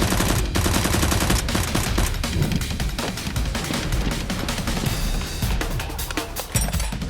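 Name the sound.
gunfire in a Nerf gun fight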